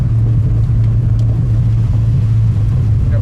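Steady low rumble of a Subaru driving over a bumpy back road on new struts, with road and tire noise constant throughout and faint knocks from the suspension.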